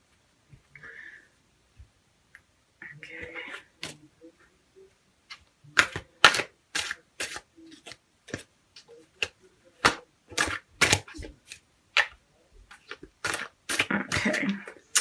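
Tarot cards being shuffled and drawn from the deck, heard as a quick run of crisp, sharp snaps and flicks, faint at first and then denser and louder in a rapid, irregular rhythm.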